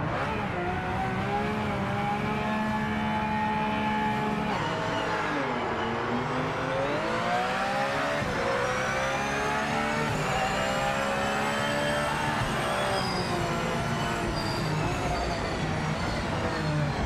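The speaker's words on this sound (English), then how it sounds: "let's hear how this Porsche sounds." Porsche race car engine in the racing game Project Motor Racing, a loud continuous drone that climbs and drops with gear changes and acceleration, steady throughout with no talk over it.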